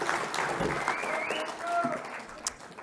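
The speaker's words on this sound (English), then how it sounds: "let's give Chen Lin a applause" An audience at an investor forum breaks into applause, a brief burst of clapping over a murmuring room, with a faint tonal sound sliding through.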